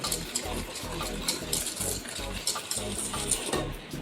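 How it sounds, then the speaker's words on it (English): Sugar and egg whisked together in a bowl for a carrot cake batter, a quick rhythmic clatter of utensil against bowl repeating steadily at close range. "So we have to mix sugar and egg together very well."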